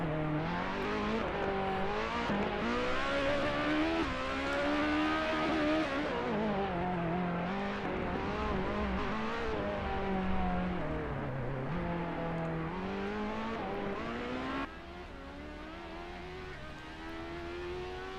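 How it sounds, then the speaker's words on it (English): Racing car engines hum and rev continuously from the pit in Assetto Corsa, the pitch wavering up and down before dropping quieter near the end. "I hear a weird humming from the left. Is that like all the cars that are in the pit?"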